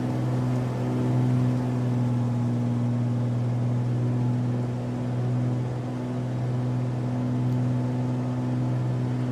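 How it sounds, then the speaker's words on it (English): Idling Beechcraft Baron piston engine at zero throttle in Microsoft Flight Simulator 2020, a steady low droning hum with strong even tones, unchanging and continuous with no talk. "I'm on 0 throttle right now. And listen to the engine."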